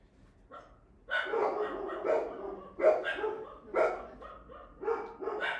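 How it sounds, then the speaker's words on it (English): Several dogs bark repeatedly in loud, close bursts with short pauses between volleys, sounding like a small pack reacting to noises outside a home. "What are they barking at?"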